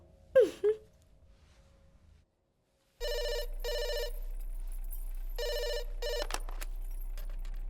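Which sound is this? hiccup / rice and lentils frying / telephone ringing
telephone ringing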